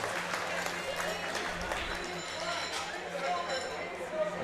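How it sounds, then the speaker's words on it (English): Applause from a crowd at a powerlifting championship after a deadlift attempt, a faint, steady patter of clapping with voices and hall noise mixed in. "All right, give him a round of applause."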